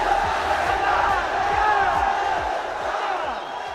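A large crowd at the 2023 Hanoi Open Pool Championship final roars and whoops in triumph, a loud, sustained wall of cheering with shouted voices rising through it.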